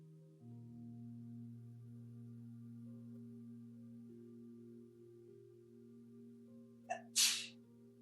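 One sharp sneeze, a short two-part burst near the end, rises over a steady low hum in an otherwise quiet room.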